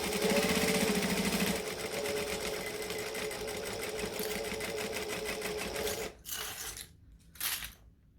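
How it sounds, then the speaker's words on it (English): A sewing machine runs steadily while stitching down one side of a unisex sling bag, a continuous close mechanical whir with rapid needle ticks that stops around the six-second mark, leaving a couple of short bursts of running. "We're now just making sure we're stitching this side down."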